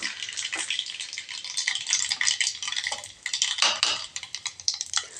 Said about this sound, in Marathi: हे टाकून आता मी तडका देते छान चटणीला